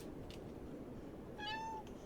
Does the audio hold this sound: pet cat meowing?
yes